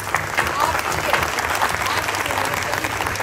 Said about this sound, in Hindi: जोरदार तालियां मैडम के लिए।